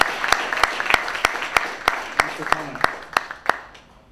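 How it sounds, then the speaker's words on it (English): A small audience greets a guest photographer with a slow, rhythmic clap, sharp distinct claps at a steady beat that taper off at the end, with faint voices underneath. "Let's give him a round of applause and welcome Alex."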